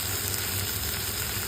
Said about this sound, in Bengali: এটাকে হালকা একটু ফ্রাই করে নেব।